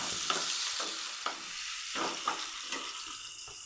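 Tomato fries in a pan for a semiya and rava pulao, a steady sizzle punctuated by several brisk scraping stirs at irregular intervals.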